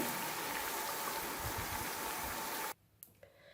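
Spinach (palak) pakoras frying in hot oil, a dense, steady sizzle and crackle close up that stops abruptly near the end, followed by a few faint clinks in near silence.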